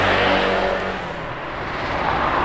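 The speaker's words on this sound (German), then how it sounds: "Momentan ist noch viel Verkehr" Road traffic passing a campsite near Noto, Sicily: a car rushes by close and loud at first, then fades into a steady broadband roar of further vehicles continuing at a distance.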